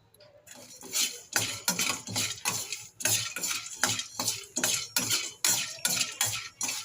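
Roasted gram is stirred in a pan with a spoon in a quick, regular rhythm of dry scraping and rattling strokes. It stays close and fairly loud throughout, with no talking.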